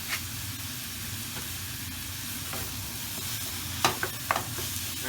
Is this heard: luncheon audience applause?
no